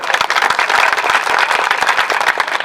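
Audience at a Shah Diwan community mass wedding in Mandvi, Gujarat, applauding in welcome, dense loud clapping from a crowd sustained throughout.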